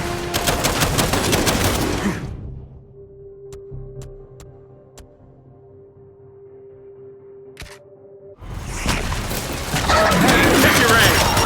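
Heavy rapid gunfire in the video game Gears 5, with dense loud bursts at the start and end separated by a quieter stretch of sparse single shots over a low hum.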